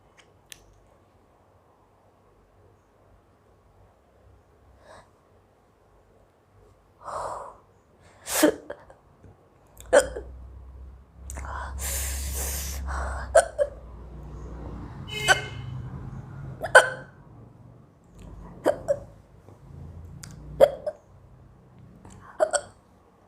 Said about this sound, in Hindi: इतनी ज़्यादा मुझे हिचकी आ रही है।